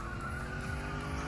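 Car in the video game The Long Drive sliding on the handbrake, a short, steady tire skid and squeal over engine drone, close and sustained with no talk.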